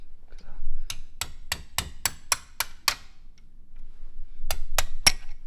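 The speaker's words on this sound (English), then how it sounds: "You just want to gently tap the new boot off." Metallic taps of a hammer on a punch against a rear suspension ball joint boot of a Mitsubishi Lancer Evolution: a quick run of about eight sharp, evenly spaced strikes, a pause, then three more.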